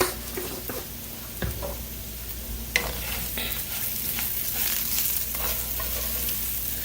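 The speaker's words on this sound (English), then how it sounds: "And what you're doing at this point is you're just kind of toasting your seasonings now." Taco seasonings toasting in a hot pan for beef flank steak fajita tacos, a steady close sizzle with scraping stir strokes and a few sharp clinks, no talking.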